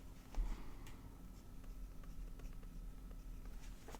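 A pen writing in a paper planner, a faint steady scratching close by with small ticks and taps in a quiet room.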